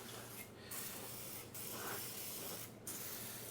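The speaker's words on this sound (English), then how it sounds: "God, I do love a bit of brake clean. Fantastic. So, Vaper, non-aerosol sprayer, good in my books." Non-aerosol Vaper pump sprayer spraying brake cleaner onto a greasy Land Rover Series 2A gearbox: close, loud hissing spray bursts, broken by three short pauses.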